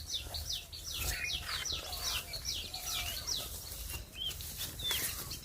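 Crows calling near a house, a rapid series of harsh repeated caws close by over a low background hum, with a few scattered calls toward the end.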